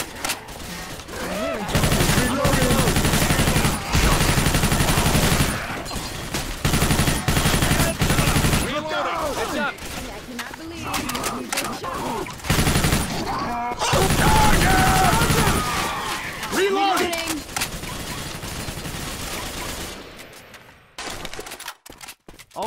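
Loud, rapid bursts of automatic gunfire in Left 4 Dead 2 on the Brain 4 Dead custom campaign, coming in dense volleys with short gaps and fading to scattered shots at the end.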